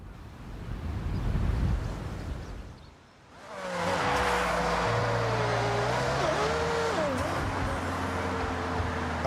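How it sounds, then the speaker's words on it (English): A BMW M3 in Forza Horizon revs up after a brief lull, its engine note climbing and shifting steadily, loud and close, with wind-like rushing noise underneath. "I have a BMW M3 here."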